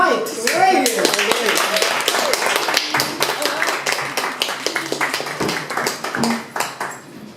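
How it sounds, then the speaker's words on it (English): Applause at a Toastmasters club meeting in Metro Manila: a crowd of hands claps loudly and steadily for several seconds, tapering off at the end, with a voice heard at the start. "Let's give a big round of applause to advanced communicator, Silver, Mike Reyes."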